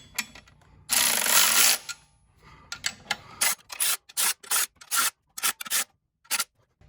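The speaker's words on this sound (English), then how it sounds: "I'm going to do it initially with this electric ratchet because it's just much quicker" An electric ratchet runs bolts down on a Ford Mustang clutch during a clutch replacement: one longer whirring burst, then a string of short, sharp spurts with brief pauses between, close up.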